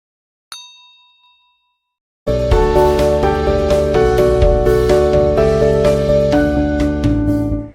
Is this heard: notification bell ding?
yes